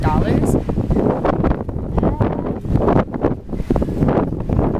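Gusty wind buffeting the microphone outdoors at a plant shop in Ontario, California, a loud broadband rumble throughout, with a voice talking over it at moments.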